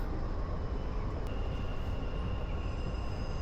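Steady, loud rumble of a Dubai metro train in motion, heard from inside the carriage, with a faint thin wheel squeal riding over the continuous noise and no voices.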